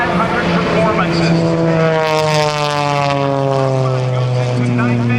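A 300-horsepower propeller aerobatic plane flown by Jan Collmer at the Blue Angels Homecoming airshow roars loud and steady, its engine drone sliding in pitch as it passes in knife-edge flight, with a voice talking over it.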